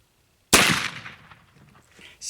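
A single sharp, loud crack from a .45 caliber black powder rifle comes after half a second of quiet, followed by a decaying boom and faint echo.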